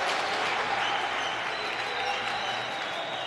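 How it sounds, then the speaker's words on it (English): Big stadium crowd at the World Inline Hockey Championships in Roccaraso, Italy, applauding and cheering in a dense, steady roar that holds at full strength throughout. "the local crowds filling the stadium to as much as we dare allow"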